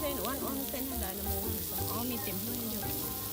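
Steady, loud sizzling of pork frying on a Thai tabletop grill (moo kratha), continuous crackle throughout with faint background chatter and clinks.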